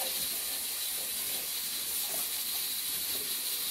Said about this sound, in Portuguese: é só a carne, tá na pressão, né, ali?